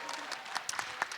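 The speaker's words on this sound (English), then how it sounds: "We can give a round of applause for that, I think." Brief, light applause from a live panel audience, a few distinct claps rising out of a soft wash of clapping and murmur.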